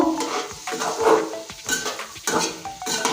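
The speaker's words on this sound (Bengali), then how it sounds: "নেড়ে নেব" A spoon stirs a potato and pea curry with grated coconut in a metal pot, making repeated close clinks and scrapes in an uneven rhythm over a faint sizzle.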